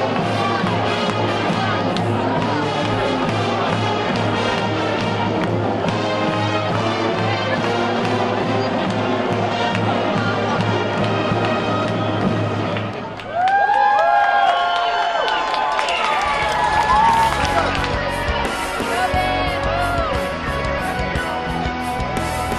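Large outdoor crowd on a city plaza at a warm morning event with a DJ, cheering and shouting over loud dance music, with a brief dip before the noise swells back up; voices carry throughout.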